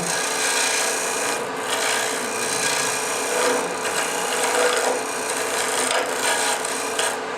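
A carving gouge cuts straight into wooden end grain while shaping a dovetail on a turned winged box, making a continuous dry rasping scrape with small surges and brief pauses, close up and alone.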